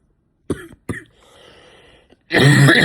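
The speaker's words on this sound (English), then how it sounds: "Oh man, I'm coughing. I'm coughing so much, dude." Two quick, close coughs, a short quiet stretch, then a louder harsh burst of coughing.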